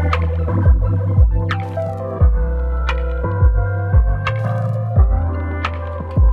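A flanger effect on a Reloop DJ Elite controller sweeping over a thumping, deep bass-heavy beat, with a regular pulsing rhythm and a swirling, shifting tone on the sharper hits, loud and close with no voices.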